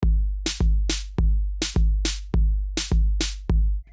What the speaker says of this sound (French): le troisième grand rythme, c'est le reggaeton qui anime toutes tes soirées,